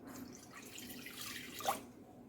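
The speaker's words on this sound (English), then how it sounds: "I'll pour in my milk." Milk pours into a mixing bowl for homemade chicken pizza dough, a faint, steady liquid splash and trickle lasting a couple of seconds with a slight surge near the end.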